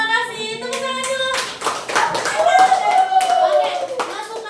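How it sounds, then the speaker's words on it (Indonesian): A classroom audience claps steadily for several seconds after a cooking-themed presentation, the crisp hand strikes running under overlapping talk and a rising voice. "Tepuk tangan dulu."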